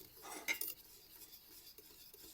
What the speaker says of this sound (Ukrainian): Файно розмішую, поки се не розійде масло.